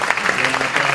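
Audience applause after a presentation on next-generation networking technologies, a steady wash of clapping filling the whole second at moderate level with a hint of a voice underneath.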